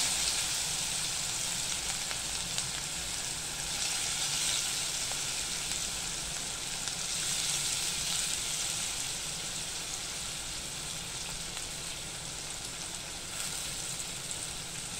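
Chopped onion with curry leaves and green chilli pieces frying in a pan makes a soft, even sizzle, a continuous fine crackle held at a low level throughout.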